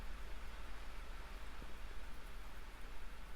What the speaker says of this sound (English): oh gosh, it's really pouring.